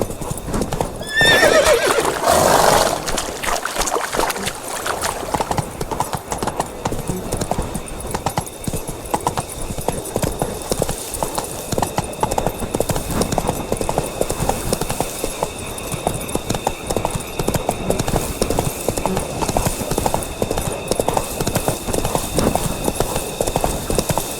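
Geralt's horse Roach galloping in The Witcher 3 video game, a loud, fast, continuous clip-clop of hooves with a brief whinny near the start.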